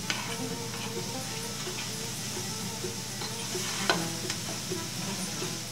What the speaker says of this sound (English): we're going to mix that whole thing together again over the heat